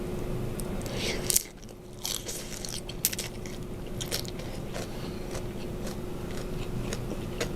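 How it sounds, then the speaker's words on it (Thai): Crunchy fried shrimp, eaten whole with the heads, crackles under a few close bites, followed by quieter chewing and scraping over a steady background hum. "กินได้หมดเลยนะ ทั้งหัวด้วยกรอบๆเลยจ้ะ"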